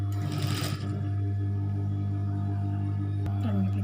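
A sewing machine stitches a kids' cap, giving a steady low mechanical hum with a brief burst of rapid stitching near the start and a short clatter toward the end.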